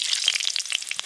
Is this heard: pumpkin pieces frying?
yes